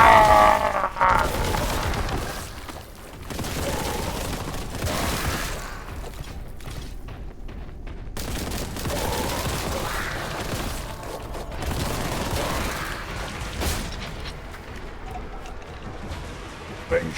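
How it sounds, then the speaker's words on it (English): A heavy bolter fires in Warhammer 40k Boltgun, with bursts of booming, crackling shots and mechanical clatter rising and falling over the stretch, partly under someone talking. "Got me heavy bolter here."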